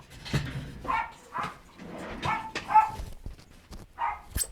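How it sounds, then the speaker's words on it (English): Several dogs bark, yip and whimper in quick, irregular bursts, close by and moderately loud, as if playing. "It's not time for barking."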